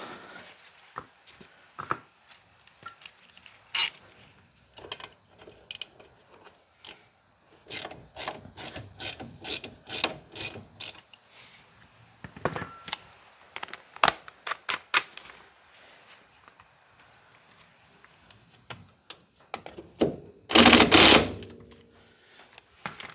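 Ratchet spanner turning a bolt on the suspension arm of a Ford MK2 Fiesta XR2 rallycross car, bursts of rapid close clicking with pauses between strokes, then a brief louder scrape near the end.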